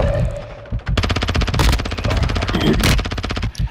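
Rapid automatic gunfire in Call of Duty: Modern Warfare II, dense bursts of loud shots rattling almost continuously with brief breaks, close and dominant over the game's background noise.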